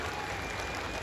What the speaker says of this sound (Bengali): একটা জোরে হাততালি হয়ে যাক প্লিজ।